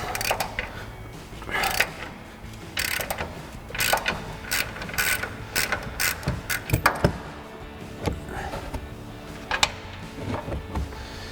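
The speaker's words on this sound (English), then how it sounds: "we're gonna grab our ratchet and fully remove those nuts" A hand ratchet clicks in quick, uneven bursts while fully removing nuts during a 3-inch leveling kit install on a Silverado 2500, close and alone without talk.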